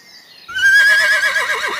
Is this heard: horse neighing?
yes